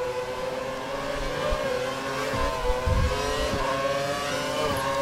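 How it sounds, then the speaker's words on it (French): A Formula 1 race car in F1 2012 brakes hard at Sepang, its engine whining steadily with shifting tonal harmonics and a low rumble throughout, loud and continuous. "ça freine fort hein, quand même"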